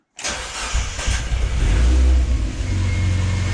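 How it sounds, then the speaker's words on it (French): Mazda MX-5 with a newly fitted engine cranking and catching quickly, then revving up loudly before settling into a rough, steady idle, close and alone. "On essaye de démarrer. Ça pète au quart de tour, je suis content."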